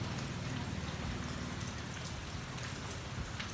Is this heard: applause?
no